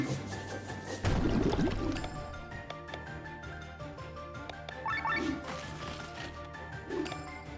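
A water spell attack in the game Chained Echoes, a sudden splashing crash followed by pouring, dripping liquid effects over game music.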